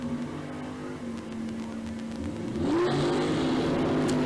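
A 462 cubic inch Pontiac GTO launches at a drag strip, its steady rumble building into a loud, rising roar as the revs climb toward the end.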